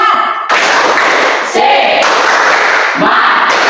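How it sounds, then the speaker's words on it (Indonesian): Classroom of students standing for a rhythmic cheer clap, with bursts of loud clapping separated by short pauses and a few thuds, close and energetic. "Tepuk semangat."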